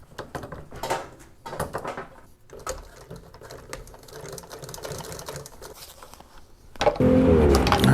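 Sewing machine top stitching motorcycle seat upholstery, with short bursts of rapid mechanical stitching broken by pauses and handling noises, then a louder sustained run of stitching at the end, close up.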